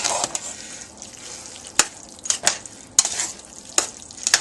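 Chili mac is stirred in a sizzling pan. A soft, steady fry sounds close by under sharp, irregular clicks and scrapes of a utensil against the pan, with no talking.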